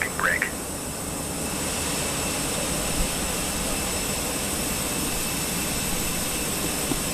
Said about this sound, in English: You can start the engines in sequence.